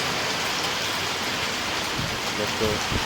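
Steady rain falls outdoors, a loud, even hiss of drops hitting the ground and surfaces that lasts throughout. Brief voices rise faintly under the downpour near the end.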